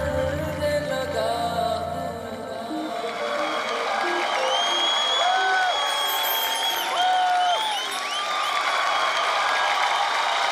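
Audience applause and cheering for dancers Salman and Drashti after a contemporary performance on a televised dance competition stage, a dense, sustained crowd roar with whoops, music fading out beneath it at the start.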